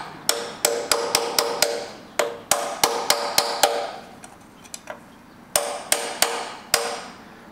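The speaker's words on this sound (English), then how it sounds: "I'm going to use my hammer and chisel on the back of this to get this seal started" A hammer striking a chisel to drive out a seal on a Rolls-Royce Silver Shadow transmission: sharp metallic taps come in quick clusters of three to six blows with short pauses between, close and distinct, with no talk.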